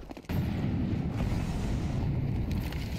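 A grenade goes off in a professional Counter-Strike match, heard as a sharp crack followed by a loud, rumbling blast that lingers as a continuous low roar.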